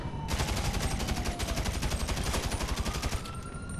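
Rapid rifle fire in GTA Online during a freemode war, a dense burst of close, loud gunshots cracking in quick succession over a steady background roar, with no talk.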